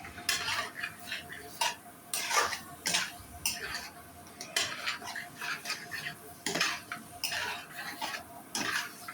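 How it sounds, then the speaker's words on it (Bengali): Country chicken pieces with spices are stirred in a pan: a metal spoon scrapes and clinks against it in irregular strokes over a faint sizzle, close and fairly quiet, with no one talking. "ভালোভাবে মাংসটা নাড়াচাড়া করে কষিয়ে নিতে হবে।"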